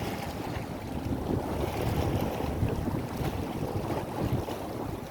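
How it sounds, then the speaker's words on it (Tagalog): Strong wind buffets the microphone with a steady low roar, mixed with the churn of choppy sea and a boat's motion, continuous and close, out at sea in Saudi Arabia. "maalon, tsaka sobrang lakas ng hangin"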